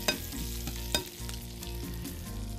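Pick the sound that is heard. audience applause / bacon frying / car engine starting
bacon frying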